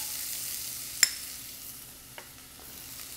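Finely chopped shallots and garlic frying in olive oil in a hot pan give a soft, steady sizzle, with one sharp utensil tap and a fainter clink later.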